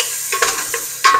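Onions drop into a hot pan for Filipino sinigang sa gabe and sizzle loudly, with a few short bursts of crackle and stirring scrapes close by.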